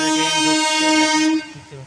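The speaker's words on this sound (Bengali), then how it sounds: "ট্রেন ঢুকছে, এই ট্রেনে উঠবো আমরা" A loud, sustained train horn blares for over a second, then cuts off, leaving rumbling movement and indistinct background noise.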